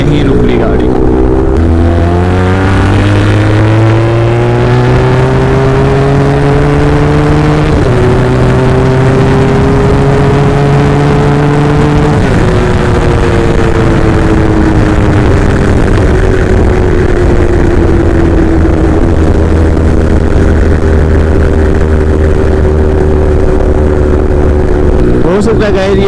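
A heavy motorbike engine running steadily and loud throughout, its tones shifting as it slows, with someone talking over it.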